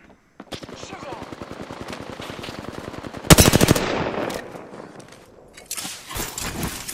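Rapid automatic gunfire from an Apex Legends match, a steady burst of close shots followed by a louder, denser volley of fire mid-clip, then scattered further shots.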